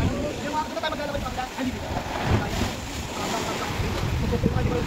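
Rough sea waves slosh and churn around a small boat near Fortune Island, with wind buffeting the microphone in a steady, dense wash of noise under brief voices.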